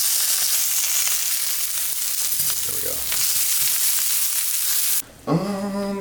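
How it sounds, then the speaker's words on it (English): Salmon fillets and five sunny-side-up eggs fry together in a nonstick pan, a loud, dense, close sizzle that cuts off abruptly near the end before a short musical tone. "Now it's time to flip the salmon."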